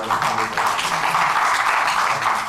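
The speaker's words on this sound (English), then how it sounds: "So please, can we all clap for these" An audience applauds for veterans at a ceremony in Anambra State, Nigeria, producing a steady, even wash of clapping that holds without pause for a couple of seconds.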